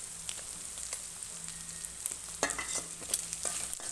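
Mutton cooked with turmeric, salt and ginger sizzles in the pan while being stirred, a close, steady crackling fry broken by repeated scraping strokes, with no talk.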